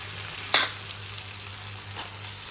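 A spice paste fries in hot oil for a paneer dish, giving a constant sizzle. Two sharp scraping stir strokes stand out near the start and near the end.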